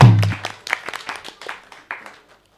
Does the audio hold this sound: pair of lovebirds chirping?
no